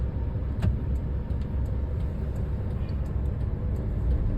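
A Maruti WagonR drives along the road, heard from inside as a steady low engine and road rumble with a faint brief click near the start, with no talking.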